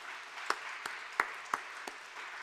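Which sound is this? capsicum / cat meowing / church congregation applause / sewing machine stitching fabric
church congregation applause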